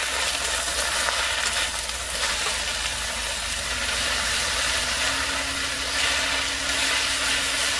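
Black nightshade (Solanum americanum) leaves frying in a pan, a steady broadband sizzle running continuously at close range with no talking.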